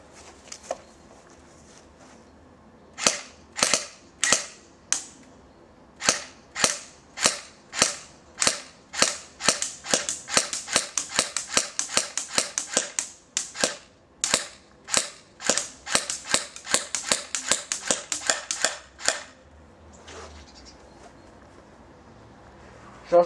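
Cyma G18 AEP airsoft pistol firing indoors: a few single shots, then rapid full-auto bursts of sharp, close cracks, ending with a short pause and one last snap.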